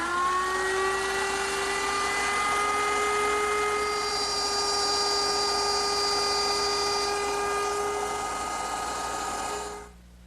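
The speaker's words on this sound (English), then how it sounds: "to make the rabbet, I'm going to turn to my router table once again" A router table with a straight bit cuts a rabbet in wood for a Chippendale mirror, giving a steady high whine with strong harmonic tones throughout that cuts off abruptly near the end, with no voices.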